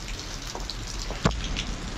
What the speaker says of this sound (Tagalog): Magpapatuloy pa itong ulan hanggang bukas.